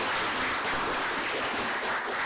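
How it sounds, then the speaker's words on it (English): Audience applause fills a school district board meeting, a steady dense wash of many hands clapping for a student of the month honoree, with no voices over it. "So let's give him a big round of applause"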